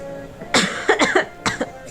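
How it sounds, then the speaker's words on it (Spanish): A woman coughs hard several times in quick bursts, close and fairly loud, with brief pauses between the rasping coughs. "Ay, estoy con una tos maldita."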